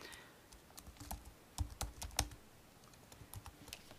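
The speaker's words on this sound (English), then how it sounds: "And I'm going to type Goldie and set my type color to kind of a goldy yellow." Someone types on a computer keyboard, giving a quiet, irregular run of close clicks with a brief busier burst midway.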